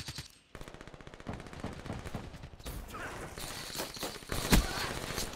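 Rapid automatic gunfire in Call of Duty: Black Ops 3, a fast string of loud, close shots that stops briefly and then resumes, with a sharp louder crack near the end.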